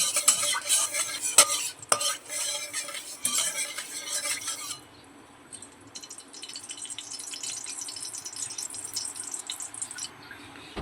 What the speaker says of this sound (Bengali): এখানে অল্প পরিমাণে ঘি ব্যবহার করছি আমরা একটু কড়ার মধ্যে ছড়িয়ে নেব